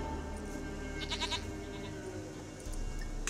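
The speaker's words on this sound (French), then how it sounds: "Ah là là, voilà la chèvre." A goat bleats in The Witcher 3, one wavering cry of moderate loudness over steady game ambience and music, with no talking.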